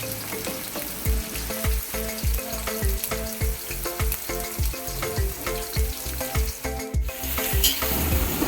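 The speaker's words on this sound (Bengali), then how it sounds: "পেঁয়াজগুলোকে ভালো করে ভেজে নেওয়া হচ্ছে" Sliced onions frying in hot oil in a wok for mutton biryani, a loud steady sizzle broken by a rhythmic series of knocking, scraping stirs, close up with no talking.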